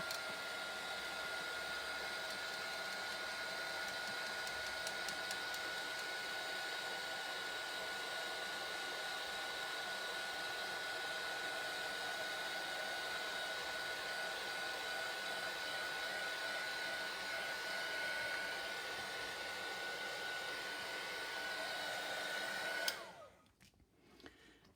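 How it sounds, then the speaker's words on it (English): Heat tool blowing to dry pigment ink on a media plate, a steady loud whirring hot-air drone held for over twenty seconds before cutting off abruptly. "Now I'm just going to give that a quick blast with my heat tool, just to make sure everything is dry."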